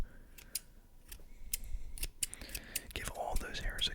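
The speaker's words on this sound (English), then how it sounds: "make sure we can cut all the hairs off, every last one of them" Sharp snipping of scissors cutting hairs close to the mic in an ASMR-style session, several quick distinct snips spaced through the clip with faint whispering and soft rustling between.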